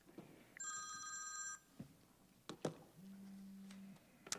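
A mobile phone rings during a regular meeting, giving a short electronic ringtone burst followed by a lower buzzing tone amid faint room clatter and knocks, with no talk over it.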